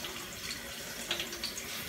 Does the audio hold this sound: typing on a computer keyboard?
no